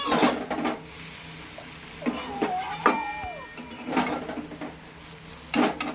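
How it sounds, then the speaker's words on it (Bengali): A spatula stirs chow mein with ground black pepper in a metal pan, giving intermittent scraping and clinking strokes with a few sharper knocks against the pan. "এবার আমি একটু গোলমরিচ ছড়িয়ে দেবো। এখানে আমি গোলমরিচটা দিয়ে দিয়েছি। এবার আমি ভালো করে নেড়ে নেবো।"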